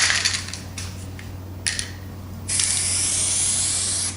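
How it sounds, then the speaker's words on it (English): Spray adhesive hisses onto the exposed strip of a masked paper sheet: a few short, sharp bursts, then one long, sustained spray, loud and close. "Spray the exposed part."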